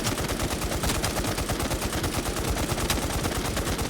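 Rapid automatic gunfire from a farming gun in the Warz II video game, a steady, evenly spaced stream of sharp shots, loud and close with no talking.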